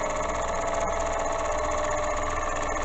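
A milling machine spindle slowed to about 1200 to 1300 RPM while machining a jack stand, giving a steady, loud mechanical whir with an even hum and no talking.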